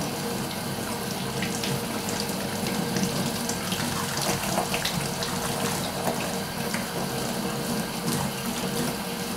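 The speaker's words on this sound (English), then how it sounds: "Just clean it with hot water and salt." Hot water runs steadily from a tap while a bottle is cleaned with hot water and salt, a continuous loud gushing and splashing in a sink that lasts the whole stretch without any talk.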